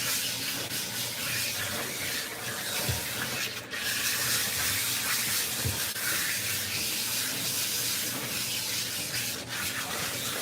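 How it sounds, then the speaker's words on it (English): A handheld water sprayer rinses a long-coated Maine Coon cat in a grooming tub, giving a steady, broad hiss of spray that runs continuously with brief dips and thumps. "we're going to be able to get a nice rinse with just this sprayer"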